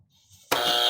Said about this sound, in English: If you don't approve, hit the buzzer